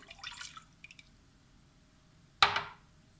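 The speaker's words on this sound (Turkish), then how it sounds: "Karıştırma kabımın içerisine bir su bardağı e, ılık sütümü ilave ediyorum." Warm milk is poured from a glass into a mixing bowl for poppy seed buns, landing as one short, close splash after a quieter stretch, with no talking over it.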